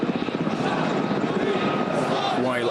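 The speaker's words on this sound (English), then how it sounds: "undeterred by military helicopters up above" Military helicopters' rotor chop and engine drone fill the air overhead in Cairo's Tahrir Square during protests, steady and loud, with crowd voices mixed underneath.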